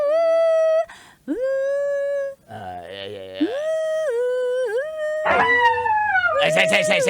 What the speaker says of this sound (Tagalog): alulong ng aso sa mga modern movie